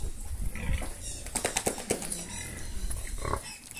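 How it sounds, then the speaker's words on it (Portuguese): Pigs being fattened on whey grunt and squeal at close range in a farm pen, with irregular bursts of snorts and squeals over a low rumble of movement. "Aqui tá o resto dos porcos."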